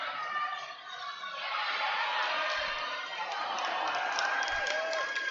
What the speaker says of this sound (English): Crowd's going wild for Blaine Neufeld